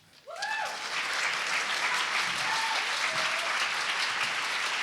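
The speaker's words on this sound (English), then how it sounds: "Let's give Ingrid another round of applause." Audience applause at a book launch and community talk, a full sustained round of clapping from a crowd that swells quickly and holds steady, with a few voices calling out early on.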